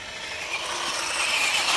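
A 1:12 scale RUKO Q111 RC military tank at full throttle gives off a close, steady whirring and grinding of small motors and gears that builds slightly in loudness.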